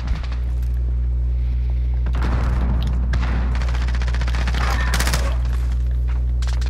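Shots ring out in a video game firefight as rapid bursts of sharp reports over a steady low hum, loud and dense through the middle with short pauses between volleys.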